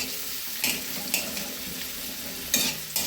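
Egg and onion frying in a pan for Maggi noodles, with dried chili, give a soft continuous sizzle broken by a few sharp scraping stirs of a spatula.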